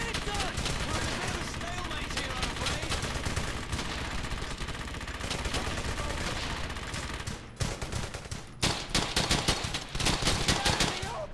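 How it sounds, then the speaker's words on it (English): An MG-42 machine gun fires in the World War II shooter Brothers in Arms: Hell's Highway, a loud, dense stream of automatic fire mixed with battle noise that breaks off briefly partway through before sharp bursts resume. "Target that MG-42!"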